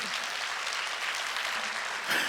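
A church congregation at a worship service breaks into brief, soft clapping, a quiet, even patter of many hands lasting a couple of seconds.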